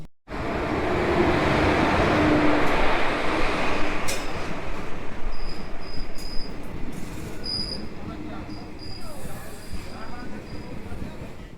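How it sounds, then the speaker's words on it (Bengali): The Balurghat Howrah Express sleeper train rolls into platform 1 at Gangarampur station, a loud, steady rumble of wheels with high squeals and clanks as it slows. Voices are heard faintly beneath it. "প্রায় রাইট টাইমে আমাদের ট্রেন ঢুকলো গঙ্গারামপুর স্টেশনে 1 নম্বর প্ল্যাটফর্মে"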